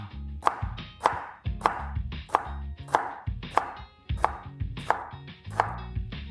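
A knife slices through a jalapeño pepper on a cutting board, giving about ten crisp, evenly spaced chops with brief pauses between them, close and clear with no talking.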